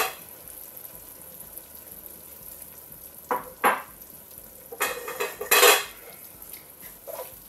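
A metal spoon stirs ground masala into chicken korma in a pan over a low gas flame, giving intermittent scraping and clinking strokes over a soft, constant sizzle.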